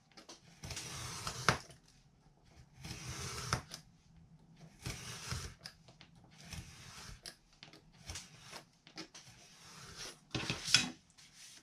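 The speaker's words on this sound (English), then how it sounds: "I'm just going to trim away that overhang" A finger blade drags along a ruler to trim the overhanging edge of a Dollar Tree placemat, giving repeated soft scraping rasps in uneven strokes, close and fairly quiet.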